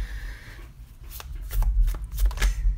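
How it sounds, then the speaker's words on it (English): Tarot cards shuffled close up, a quick run of riffling and soft slapping bursts with no talking. "Let's give it one good shuffle"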